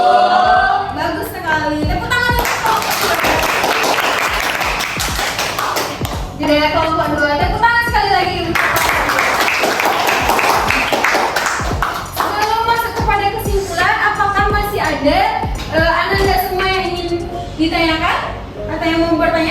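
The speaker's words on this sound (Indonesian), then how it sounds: "Tepuk tangan untuk kelompok 2." Classroom students applaud a group of classmates, with bursts of close clapping that rise and fall across the clip while children's voices and chatter run throughout.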